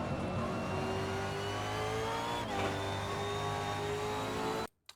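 Holden Commodore V8 Supercar engine in a racing video game at The Bend, holding a loud, steady high rev with slowly rising pitch, then cutting off abruptly near the end with a brief blip.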